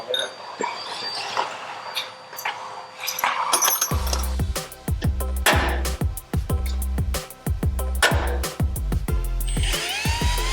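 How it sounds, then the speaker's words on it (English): Power drill boring holes into a gearbox casing for a flange plate on a 1000cc motorcycle V-twin lawnmower engine swap, with repeated loud whirring bursts and metallic clinks after a quieter start. "I have finished drilling all the holes in the gearbox now for the flange plate to mount to."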